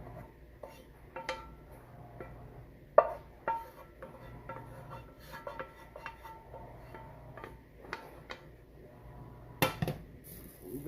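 Shrimp lo mein noodles with cabbage, carrots and celery are tossed in a pan, giving quiet scattered clinks and knocks of utensils against cookware, with a few sharper taps standing out against a low background.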